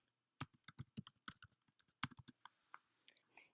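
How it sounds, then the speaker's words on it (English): Quick bursts of keystrokes on a computer keyboard while a Google Doc is being written. The clicks are close, crisp and irregular, thinning out toward the end, with no speech. "So you can begin typing."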